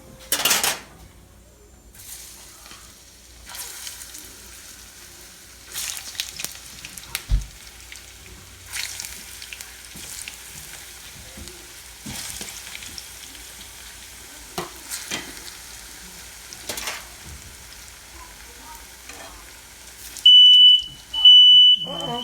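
Sweet plantain slices fry in a pan with a soft, steady sizzle broken by occasional light clatters, and a brief high beeping tone sounds near the end.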